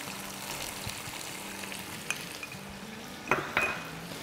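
Chicken with chopped tomato and yogurt fries in a pan, a soft low sizzle with a few clinks of a spoon against metal near the end; no voices.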